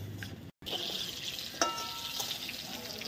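A steady, close hiss of jhal puli pitha sizzling in hot oil, with a brief cut-out and a couple of light clinks.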